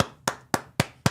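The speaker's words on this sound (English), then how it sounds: "The golf clap." Five crisp, isolated handclaps in an even slow rhythm, close by and moderately quiet, a sparse mock-polite golf clap with no voices.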